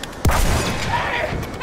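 A grenade explodes in Battlefield 1 with a single sharp, loud blast followed by a rumbling tail as battlefield noise continues.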